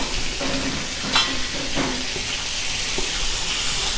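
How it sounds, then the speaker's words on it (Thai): Shrimp and garlic stir-fried in a wok, with a steady loud sizzle and hiss close by, punctuated by a few sharp scrapes and clinks from a spatula against the metal. "จะผัดด้วยความรวดเร็วเพื่อมาให้กุ้งสุกมากนะครับผม"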